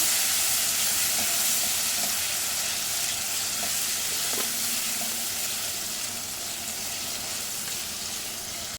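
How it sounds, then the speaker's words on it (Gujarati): Chopped tomatoes for Gujarati dal bhaat sauté in a pan, giving a steady, close frying sizzle with faint stirring scrapes throughout, fading slightly toward the end, with no talking. "આ રીતે એને સોફ્ટ થાય ત્યાં સુધી શેકી લેવાના"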